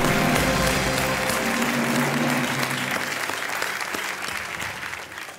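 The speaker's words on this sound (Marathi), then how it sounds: "टाळ्या वाजवायला सुरुवात केली" A studio audience on KBC bursts into loud, sustained applause, the dense clapping holding steady before easing off near the end.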